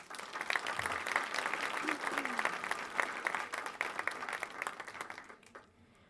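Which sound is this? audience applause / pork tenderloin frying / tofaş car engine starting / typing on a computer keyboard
audience applause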